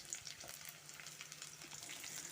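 Onions sizzle steadily in a hot pan with a little tamarind added, a soft continuous crackle with little pops, heard alone without any talking.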